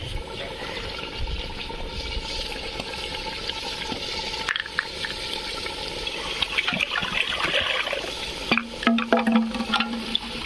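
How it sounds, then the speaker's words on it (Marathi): Water pours and splashes into a metal pressure cooker nearby, with irregular gurgles and clinks. The flow grows busier toward the end. "आता मी काय करणार आहे पाणी ठेवणार आहे कुकर कुकरमध्ये जरासं"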